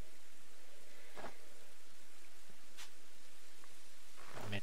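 Rain falls in the video game Pokémon Legends: Arceus as a steady, even hiss with a few brief louder bursts, and nobody speaks.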